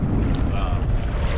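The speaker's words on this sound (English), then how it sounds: "it's getting kind of windy because they're out here" Steady wind rushes across a microphone out on open water off San Diego while fishing, with a constant low roar and faint wave and boat noise throughout.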